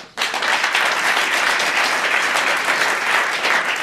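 A television studio audience breaks into loud applause for a game-show winner, the clapping starting abruptly and staying dense and even throughout.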